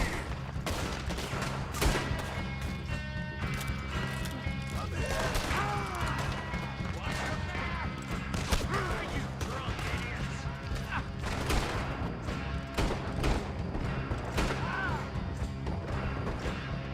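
Gunfight in Red Dead Redemption 2, with dense, continuous gunfire and crashing impacts running the whole stretch under a busy game mix, sharp shot transients scattered throughout.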